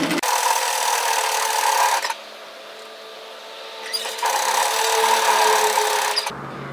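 A sewing machine stitches a zip-up hoodie in two steady bursts of close, even whirring, each about two seconds, with a short quiet pause between them and no talking.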